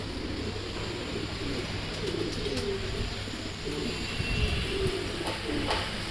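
Pigeons in a home coop coo repeatedly and close by, their soft rolling calls running steadily over a low background hum with no talking.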